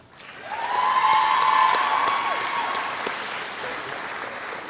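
An audience at a graduation ceremony applauds, a dense steady clapping that swells in quickly, holds loud, then slowly tapers, with a faint whistle near the start.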